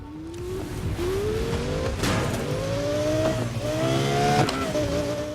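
A racing car's engine in a video game revs continuously and loudly, its pitch climbing steadily through the gears with brief dips at each shift, heard alone without talk.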